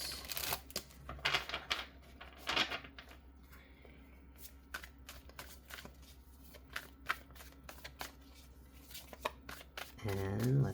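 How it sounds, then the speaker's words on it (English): Riffled tarot cards shuffled in quick bursts at close range, with crisp flicking and tapping strokes and a brief louder rustle at the end. "let's just shuffle a little bit first."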